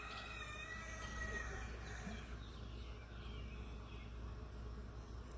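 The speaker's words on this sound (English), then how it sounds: "Yeah, the roosters are finally waking up." Roosters next door crow at sunrise on a summer morning, faint and distant over a low background hum, with insect chirring and a few drawn-out crowing calls early on.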